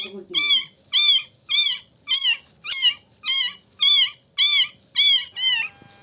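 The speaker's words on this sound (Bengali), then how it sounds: "তারপরে আবার চিল্লাচিল্লি শুরু হয়ে গেল বিড়ালের বাচ্চাটার" A kitten cries after being set down: about ten high, arching mews in a steady, insistent rhythm, loud and close, with short gaps between calls and no talking.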